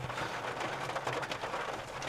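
Heavy rain pours steadily onto a car on a Kerala road trip, a dense and constant hiss with big drops drumming on the body, heard from inside with no voices.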